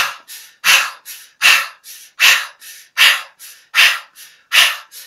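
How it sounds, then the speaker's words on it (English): Heavy rhythmic breathing demonstrated for tantric sex: strong forceful exhales alternate with shorter, softer ones in a steady repeating pattern, close and loud, with no talking. "if you add the breathing and you start breathing in a way which sounds like"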